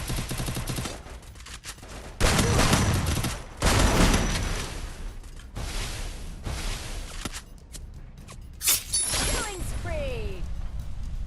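Gunfire crackles through a round of the video game Free Fire, with bursts of rapid shots and single blasts, some near and loud, others distant, while a player talks excitedly over much of it.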